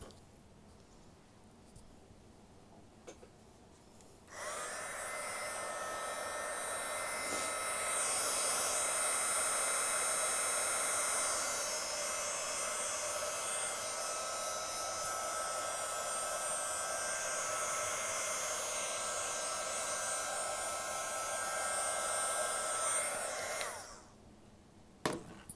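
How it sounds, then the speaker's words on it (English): A heat gun blows over an acrylic pour canvas, a loud steady whooshing roar that switches on after a few seconds of quiet, runs evenly for about twenty seconds, then cuts off. "I just had to go get my heat gun."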